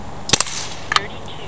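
A Byrna TCR launcher fires twice, each shot a sharp, close snap with a quick whip-like crack, spaced roughly half a second apart against quiet surroundings.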